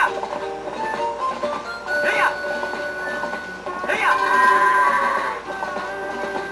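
A horse in the video game The Legend of Zelda: Twilight Princess whinnies twice, each neigh rising and falling in pitch, with a steady musical background between the calls.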